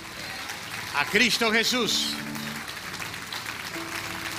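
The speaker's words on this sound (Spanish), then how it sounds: "Denles aplauso fuerte al Rey que nació" A church congregation at a Christmas candlelight service applauds loudly, a steady wash of clapping running beneath a voice as he speaks and sings.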